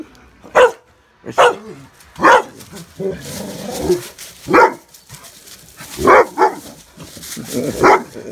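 A puppy barks repeatedly in sharp, high yips spaced about a second apart, close and loud, with a few softer whimpery sounds between.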